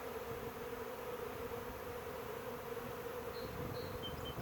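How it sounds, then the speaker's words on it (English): A small honeybee swarm buzzes steadily at a three-frame deep observation hive, a dense continuous hum of many wings that is moderately faint and carries no talk. "catch this small little swarm because it just came out of a 3-frame deep observation hive"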